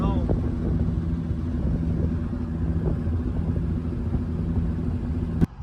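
Turbocharged Honda Civic driving along, a steady low engine and road rumble with wind buffeting throughout, ending in a brief knock or bump near the close.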